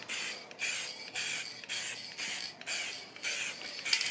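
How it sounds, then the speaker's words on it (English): Krylon UV-resistant gloss spray sealer hissing from an aerosol can onto stamped art pieces in repeated bursts of about half a second each, with short pauses between them, close and steady, with no talking. "you have to kind of play around with how much you spray your pieces with"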